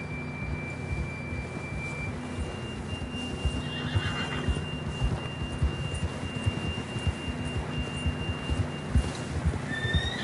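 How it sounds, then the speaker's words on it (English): A horse whinnies briefly in a PS4 video game, faint against steady electronic tones and a soft, continuous patter of movement. "John was riding that horse when we left Blackwater."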